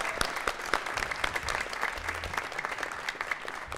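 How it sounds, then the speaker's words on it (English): Audience applause fills a jazz concert hall, a steady dense clapping crowd sustained throughout, close and even with no speech over it. "Everybody give a big round of applause for those people."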